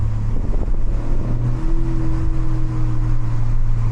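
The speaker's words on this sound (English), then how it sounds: "And the exhaust sounds pretty good." Three-cylinder turbocharged car exhaust droning steadily from inside the car while driving, a loud, close, low hum with wind noise around it.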